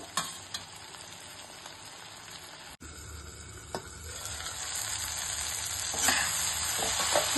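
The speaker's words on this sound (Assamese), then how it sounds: "অকণমান কম জুইতে ভাজি থাকিব লাগিব।" Masala for a dhaba-style paneer gravy fries on a low flame, sizzling steadily and close up with occasional stirring clinks, the sizzle growing louder toward the end and no talk.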